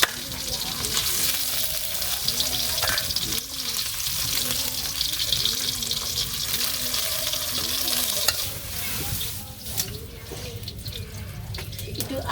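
Ginger sizzling in hot oil while cooking shukto with turmeric in a village kitchen, a steady frying hiss broken by stirring and scraping, with a running-water sound mixed in, no speech.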